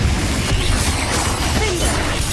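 A Confringo spell blast in Hogwarts Legacy erupts as a loud, dense burst of crackling impact and rumble, filling the whole moment with chaotic noise.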